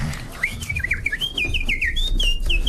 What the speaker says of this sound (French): Quel est le cri du rossignol?